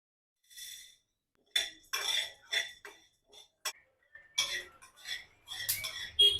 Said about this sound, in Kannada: ನೋಡಿ ಈ ರೀತಿ ಚಟಪಟ ಅಂತ ಸೌಂಡ್ ಬರಬೇಕು ಅವಾಗ ಇದು ಹುರಿದಿದೆ